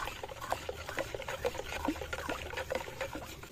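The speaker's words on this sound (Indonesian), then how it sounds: "Kita aduk dulu." A liquid pesticide spray mixture is stirred in a container, a continuous close sloshing and swirling of water with small trickling splashes, steady and moderately loud throughout.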